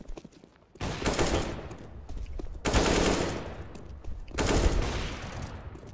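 AK rifles fire in Counter-Strike on the dust2 map in three loud, sustained automatic bursts, each a dense rattle of shots with brief gaps in between.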